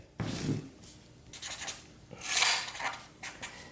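Pen on paper jotting down measurements, close scratchy strokes in short bursts with brief pauses between words and numbers.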